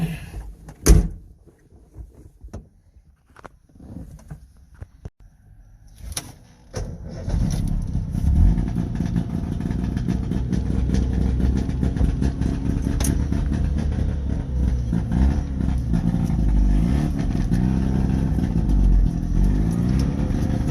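A two-stroke car with suicide doors: a couple of thuds of doors shutting, then the engine starts and settles into a loud, raspy, steady idle that continues to the end.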